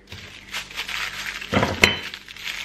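Knives are set down in a cutlery tray with light metallic clinks and a brief clatter among soft rustling, close and quiet.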